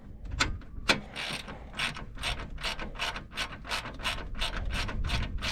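A ratchet clicks in a quick, steady series of strokes while tightening a radiator bolt on a 2003 Chrysler Town and Country, crisp and close with a few heavier clacks early on.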